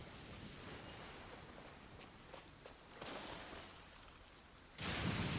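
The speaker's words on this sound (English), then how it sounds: "Let us find shelter from the rain." Rain falls steadily in Genshin Impact, a soft wash of faint, continuous rainfall that grows a little heavier toward the end.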